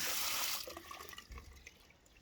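Water spurts from a newly fitted garden tap as it is first turned on, a brief hissing rush that quickly fades into quieter trickling and dripping.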